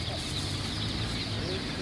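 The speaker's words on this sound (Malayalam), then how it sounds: "അത് നല്ല കോഴി നോക്കുക" A hen clucking softly amid a steady dense wash of farmyard noise, with chicks nearby and a voice speaking faintly in the background.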